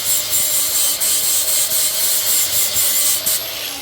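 A brake backing plate being shaved down for a Wilwood disc brake upgrade on a 1977 Ford Bronco Dana 44 axle, a harsh, hissing grind in steady rhythmic strokes, close and continuous.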